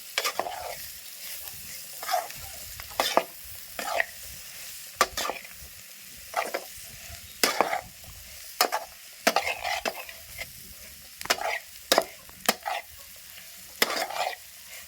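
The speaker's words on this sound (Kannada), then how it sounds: "ಈ ರೀತಿ ಹುರಿದು ಮಾಡ್ಬೇಕು ರೀ ಈಗ ಚೌಳಿಕಾಯಿನ ಹಾಕಿ ಹೋಗುತ್ತೆ ನೋಡ್ರಿ" Cluster beans fry in a pan while being stirred, a steady close sizzle broken by repeated sharp scraping strokes of the spoon every second or so.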